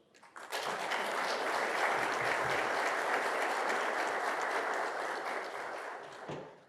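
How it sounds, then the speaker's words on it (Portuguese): Audience applause fills a conference hall at an international public policy and public administration conference, a dense, steady wash of many hands clapping that swells in quickly and holds for several seconds before tapering. "Os nossos aplausos."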